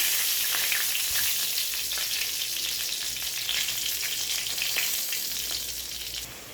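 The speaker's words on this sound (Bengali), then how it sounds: "কড়াইতে যে আলু ভাজার তেল ছিল ওটাতেই আমি সাদা জিরে একটু ফোড়ন দিলাম আর শুকনো লঙ্কা ফোড়ন দিলাম।" White cumin seeds and dried red chillies crackle and sizzle steadily in hot oil left in a kadai after frying potatoes, a loud, continuous frying hiss with no voices.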